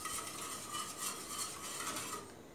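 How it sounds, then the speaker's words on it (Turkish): Boiled quinoa for a sugar-free diet pudding is stirred quickly in a pot, giving a continuous close scraping and swishing with a faint rhythmic pulse, alone with no talking. "Hızlı karıştırmaya ben devam ediyorum."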